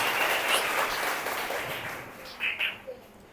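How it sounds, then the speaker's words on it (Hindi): Congregation clapping during a church worship service, a steady wash of applause that swells early and then gradually fades, with a few louder bursts near the end. "ताली बजा के प्रभु को धन्यवाद करिए"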